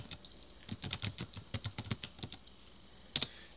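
Search text is typed on a computer keyboard in quick, uneven runs of close, faint key clicks, with a couple of sharper keystrokes near the end and no voices.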